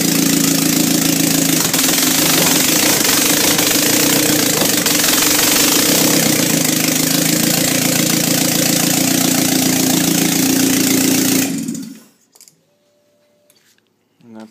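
A freshly overhauled Nissan 240SX engine runs loud and steady with its throttle not yet hooked up, a dense roar close by that cuts off abruptly near the end, leaving near silence.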